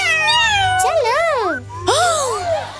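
Cartoon cat meowing in a children's animated fire-safety adventure, two drawn-out, wavering meows in quick succession, close and clear with a low hum beneath and no talking.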